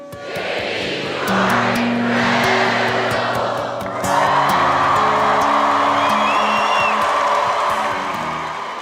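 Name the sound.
recorded crowd of people cheering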